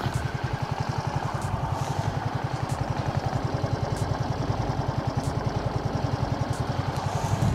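A scooter engine idles close by with a steady, even, fast putter and a slightly clattery mechanical beat that runs unbroken throughout.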